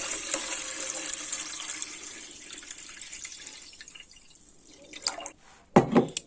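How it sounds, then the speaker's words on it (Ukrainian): Wine being poured out into a jar for pickled cucumbers, a steady trickling pour that thins out and then ends with a few louder splashes and clinks, close by. "Отже, виливаємо наше вино."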